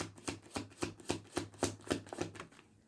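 Tarot cards are shuffled in a quick, even rhythm: about ten crisp riffling bursts, close and clear, with no voices over them before the sound stops.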